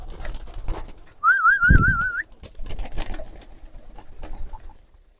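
Farm pigeons at feeding time give a single short warbling call near the microphone, standing out against a quiet background with faint rustling.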